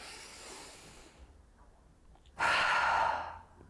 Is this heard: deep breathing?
yes